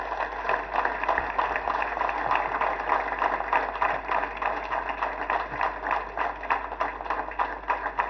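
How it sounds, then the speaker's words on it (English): An audience at a parade applauds a skydiver, with steady dense clapping from a large crowd heard at a distance, sustained throughout without voices. "may we please have a big round of applause for Corporal Akhilesh Varan"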